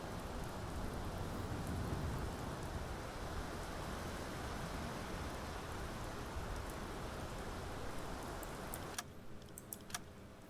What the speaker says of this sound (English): it's storming and raining out